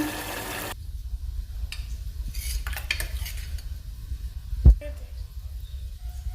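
Girmit ingredients such as salt and turmeric powder being mixed by hand or spoon in a bowl, soft close stirring and scraping with one sharp clink of utensil against the dish near the end.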